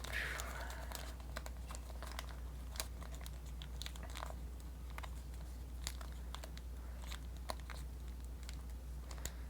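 Origami paper being folded back while shaping a water lily flower: soft, steady crinkling and rustling with scattered crisp creases and taps, close and fairly quiet over a low constant hum.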